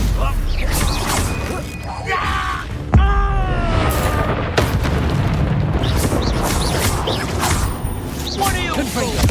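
Confringo spell blasts go off in the Hogwarts Legacy game, with a sharp boom near the three-second mark and further bursts over a dense, continuous bed of battle effects, while voices talk throughout.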